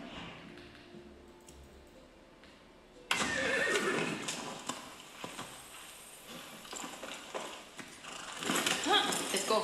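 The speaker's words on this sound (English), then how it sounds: "Instant horse." In a video game, a horse whinnies loudly and suddenly, followed by the clip-clop of hooves and more neighing, with game sounds beneath.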